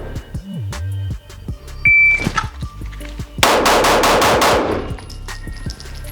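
Glock 19 Gen 5 pistol fired rapidly in a bill drill at 7 yards: a tight burst of about six sharp shots in quick even succession, preceded by a beep and clanks.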